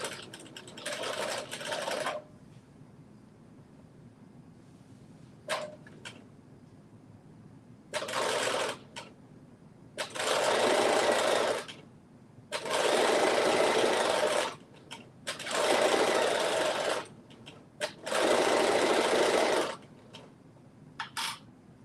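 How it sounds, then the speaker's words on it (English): Sewing machine stitching a pocket at a 3/8 seam allowance, running in several bursts of a few seconds each, separated by quiet pauses and short taps. "we are sewing it at 3/8 seam allowance"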